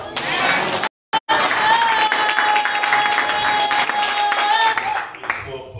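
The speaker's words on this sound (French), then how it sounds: "Il faut applaudir pour cette grande chorale de Lourdes" An audience applauds a large choir from Lourdes in a church setting, a dense, sustained roar of clapping with a brief cut near the start, a voice carrying over the applause.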